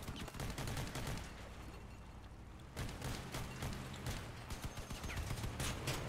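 Enemy gunfire in the Crossout vehicle combat game, dense rattling bursts over a constant engine-like roar, with a brief lull before the shooting resumes, fairly quiet overall.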